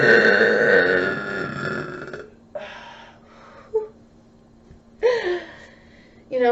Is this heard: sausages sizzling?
no